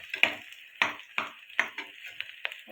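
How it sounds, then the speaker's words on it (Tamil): Green chillies crackle and pop in hot ghee while frying for ghee rice, with sharp, irregular bursts a few tenths of a second apart over a soft sizzle, close and fairly quiet. "பச்சை மிளகா இப்போ படன்னு சவுண்ட் கேட்கும்."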